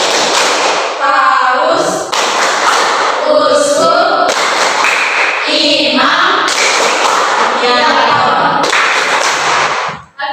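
A class of schoolchildren performs the tepuk hierarki clapping chant, with sharp, loud rhythmic claps in regular bursts and voices chanting words between the claps.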